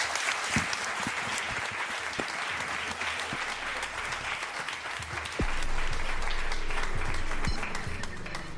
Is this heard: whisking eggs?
no